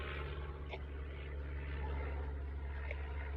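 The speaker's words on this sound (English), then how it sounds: "Reminds me of the crop dusters, but it's a small little plane." A small propeller plane of the crop-duster type flies overhead, heard as a steady low droning hum that stays distant and even throughout, with no talking.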